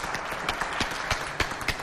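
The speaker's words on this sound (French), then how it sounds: "Applaudissez pour Maître Clarisse, s'il vous plaît" Applause from the audience of a Saint Valentine's edition of the Festafrica show: a busy patter of clapping with a few sharper, distinct claps standing out near the microphone.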